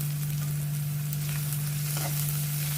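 Finely chopped capsicum sizzles with onion in a hot pan, a steady, loud frying hiss over a constant low hum, with no voices.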